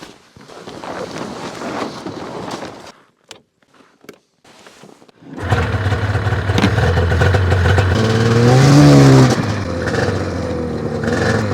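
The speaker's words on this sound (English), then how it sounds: "You may say that a snowmobile doesn't count under snow management" A snowmobile engine idling roughly outdoors in winter, then revving up loud and close with a rising, steady drone and wind buffeting the microphone.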